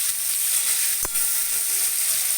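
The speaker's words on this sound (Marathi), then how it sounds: "कांदा टाकायचा आहे कांदा बी आपल्याला लालसर करायचं आहे" Onions frying in a pan until reddish brown for a village-style soybean curry give off a steady, even sizzle, broken once by a single short clink.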